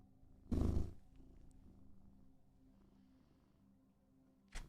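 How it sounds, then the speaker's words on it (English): A male cat purring softly and steadily, low and faint, with a brief louder rustle early on and a short noise at the end. "He's got good purr, too."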